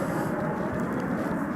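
An airplane at DFW Airport, a broad steady roar of engine noise heard from a distance, unbroken across the short stretch.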